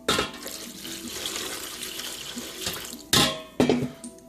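Water pours and splashes into a basin of sweet herbs for a spiritual cleansing bath, a steady running gush with two louder splashing bursts near the end, no talk.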